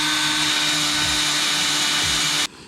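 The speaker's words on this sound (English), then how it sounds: "if at any point you feel like you're a little off center, you can just drill in the direction of center" A power drill bores out the head of an aluminum rivet on a jon boat hull, a loud steady high whine with a constant motor hum that cuts off abruptly near the end.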